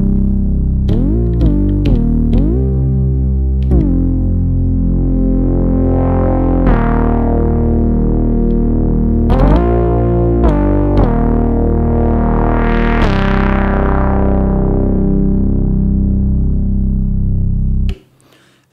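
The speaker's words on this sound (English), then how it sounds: "one of my favorite sounds here on the Digitone, which is this bass lead sound" An Elektron Digitone synthesizer plays a bass lead patch: a gritty, distorted melodic line of sustained notes with sweeping filter swells. It is loud and up front, with no voices, and stops sharply near the end.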